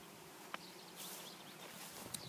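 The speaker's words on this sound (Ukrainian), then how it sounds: "тут пасеться не тільки моя бджола, пасуться всі бджоли, які у нас тут є" A soft, continuous hum of honeybees foraging on flowering phacelia in the early morning, distant and faint, with a couple of brief bright chirps cutting through.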